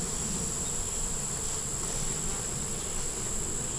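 Honey bees swarm at an open hive, their buzzing forming a dense, steady drone that fills the space at close range without interruption, with no voices.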